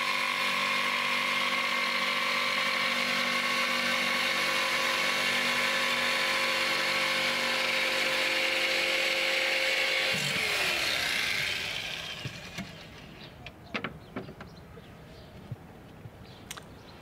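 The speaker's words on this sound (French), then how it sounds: "je suis en train de découper maintenant le surplus de la planche." Power tool cutting surplus off a wooden board taped against splintering, a loud steady whine with harmonic tones for about ten seconds that then winds down and stops, followed by light knocks and handling noises.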